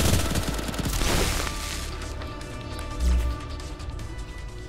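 Rapid machine-gun bow fire in the Boiling Steel VR game, a dense loud burst of overlapping shots that thins into a steady rattling stream with a heavier thump near the end.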